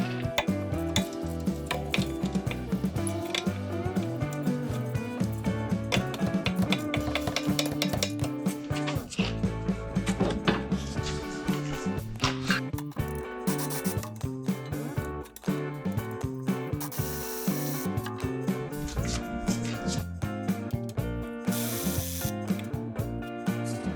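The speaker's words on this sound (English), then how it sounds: "We'll remove the two bigger bolts at the back of the caliper that's holding on the caliper bracket." A ratchet turns a 19mm socket to loosen the rear caliper bracket bolts on a 2021 to 2026 Toyota Sienna, producing rapid, continuous clicking from the pawl, close and fairly loud, with metallic tool clatter and no talk.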